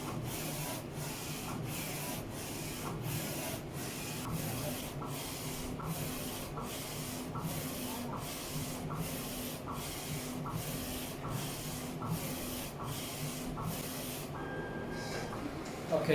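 A Focus Alpha-Jet A2 UV printer lays down a varnish layer with a continuous mechanical whir and a regular pulsing swish about once per second, steady and moderately quiet throughout.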